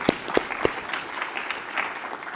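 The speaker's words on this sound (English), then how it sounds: "Can we get a round of applause for Arjun first?" Audience applause at a tech awards spotlight event, opening with a few sharp, close claps and settling into a light, steady patter of clapping.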